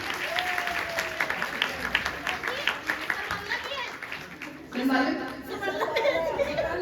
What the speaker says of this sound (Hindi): ताली बजाइए बड़ी जोर से।